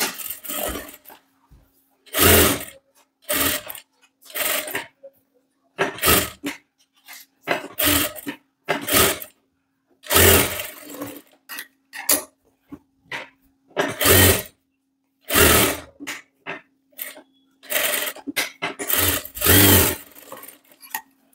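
Sewing machine stitching the lining and main fabric of a sleeveless V-neck blouse: short, close mechanical whirring bursts of varying length separated by pauses, over a faint steady hum.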